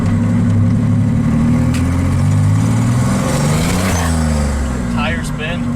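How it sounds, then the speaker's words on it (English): A turbocharged 3.9 Dodge Dakota engine drives off after a dyno tune, its steady loud mid-range engine note holding throughout with a brief rise in revs near the end; people talk over it. "There's the first drive after the tune."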